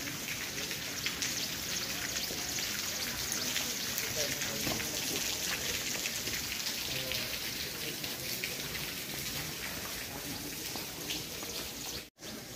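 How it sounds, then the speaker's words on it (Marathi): Water seeps and trickles from rock after days of rain, making a steady broadband patter and dripping hiss, fairly faint and unbroken. "इथं कसं पाणी पाजरू राहिले खडकातून"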